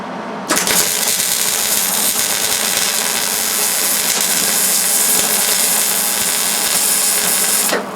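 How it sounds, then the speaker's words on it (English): A welder joins a steel brace to a wok burner stand with a loud, steady crackling hiss. It starts suddenly, runs without a break for about seven seconds and then cuts off. "I can weld this last one on there for you."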